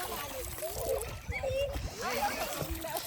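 Children play and splash in water outdoors, with repeated sloshing and splattering up close while kids talk and shout over it throughout.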